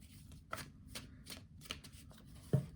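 Tarot cards being shuffled in quick riffles and soft slaps, several short bursts close by, with a sharper tap near the end.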